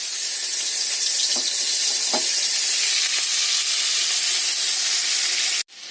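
Onion paste hits hot oil in a wok and sizzles loudly and close up. The hiss is steady and continuous, with a few faint stirring knocks, and cuts off abruptly near the end.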